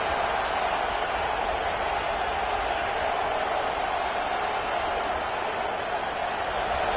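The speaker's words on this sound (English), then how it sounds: "This crowd trying to make life miserable for this offense." Football stadium crowd noise, a steady, dense roar from a large crowd that holds at an even level without a break, with no distinct voices standing out.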